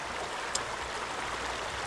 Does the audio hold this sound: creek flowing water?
yes